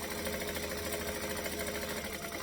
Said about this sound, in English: I'm stitching right on that edge, back stitch